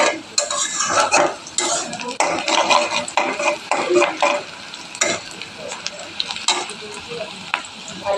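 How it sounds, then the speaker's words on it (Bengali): Onions and green chillies fry in oil in a pan, sizzling close up while a utensil stirs and scrapes them in irregular bursts, with a few sharp clicks. "পেঁয়াজ মরিচ তাহলে ভাজছি।"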